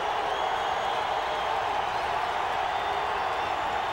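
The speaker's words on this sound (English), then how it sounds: "The crowd is going to be loud now." The crowd at an NFL football game in the Denver Broncos' stadium, in a 1998 game against the Seahawks, keeps up a dense, constant roar throughout. It is steady and broad, with no breaks or single voices standing out.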